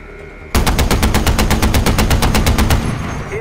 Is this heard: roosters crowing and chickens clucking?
no